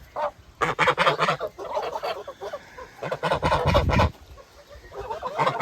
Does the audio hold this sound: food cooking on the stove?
no